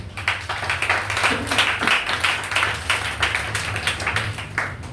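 A church congregation claps in praise, with a steady run of fast, dense handclaps over a low hum and faint murmuring voices.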